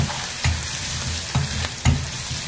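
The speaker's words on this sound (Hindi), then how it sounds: "लहसुन को ब्राउन होने देंगे" Garlic sizzles steadily in hot mustard oil in a home kitchen, with a spatula stirring the pan and producing three distinct scraping knocks over the constant frying hiss.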